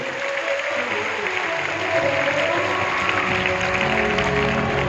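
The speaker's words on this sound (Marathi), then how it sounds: "एका टाळी तुमच्यासाठी झाली पाहिजे सगळ्यासाठी." Audience applause at a Marathi religious discourse, a steady dense wash of clapping that holds evenly for the whole stretch, fairly loud and close, with a faint murmur of the crowd underneath.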